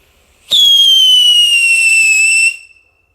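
A Piszczący Luftheuler Xplode whistling firework launches after a sharp pop, letting out one loud, piercing whistle that holds steady for about two seconds and then cuts off abruptly, with no voices.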